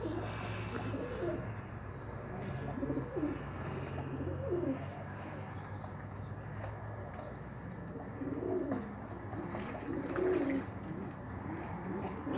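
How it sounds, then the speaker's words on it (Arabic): Young pigeons coo softly in a loft, low throaty calls repeating intermittently over a faint background hum. "هاي طيور شباب"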